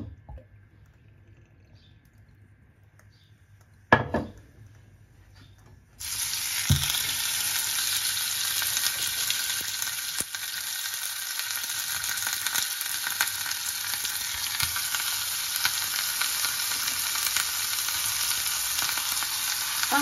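Frozen homemade minced beef burgers drop into a hot pan and start to sizzle, the loud frying hiss starting suddenly after a quiet moment and staying steady for the rest.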